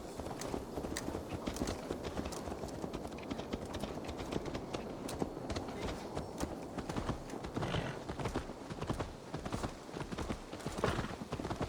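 Horse hooves clip-clop in a steady walking rhythm in the video game Assassin's Creed Valhalla, moderately close and continuing throughout.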